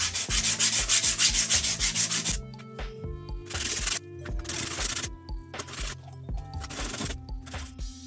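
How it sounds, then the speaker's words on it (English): Rhythmic strokes of 80-grit sandpaper rubbing across homemade wide body fenders for an MN82 RC crawler, quick and steady at first, then slower, separate scraping passes up close. "After a lot of sanding, a lot sanding"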